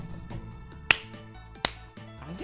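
Two sharp, isolated hand claps ring out about a second apart over a soft steady background of game audio.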